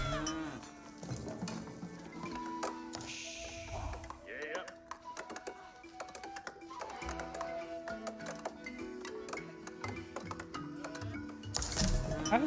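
Cattle in the strategy game Age of Empires 4 moo over a busy game soundscape of clicks, bell-like tones and unit effects, with a commentator talking throughout.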